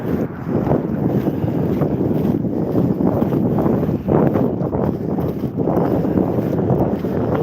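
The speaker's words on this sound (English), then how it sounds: "wind is picking up a little bit." Strong wind roars over open water during a long-distance training session for a world-record attempt, buffeting the microphone in a continuous loud rush with gusty swells and no talk.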